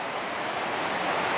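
A cold river flows next to a hot spring seeping from a hillside in March, a broad continuous rushing wash, steady and fairly loud with no voices.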